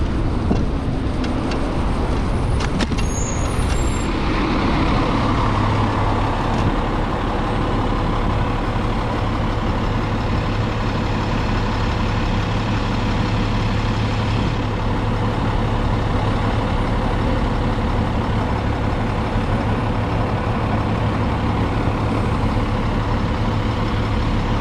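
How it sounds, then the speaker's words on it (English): A garbage truck drives close by in city traffic near a ferry route to San Francisco, a steady loud engine rumble and road roar filling the whole stretch with a low droning hum. "See if I can get around this garbage truck."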